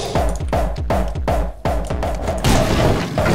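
Gunshots ring out in the video game Anger Foot, a steady run of six loud, punchy blasts at roughly half-second intervals, followed by a denser burst of noisy crackle near the end, with no voices over them.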